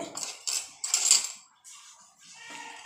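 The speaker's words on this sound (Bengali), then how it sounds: "এইবার গুলিয়ে নেব ভালো করে।" An egg beaten in a bowl for an omelette, a utensil clinking against the dish in a few quick bright strokes with short pauses, close and fairly quiet.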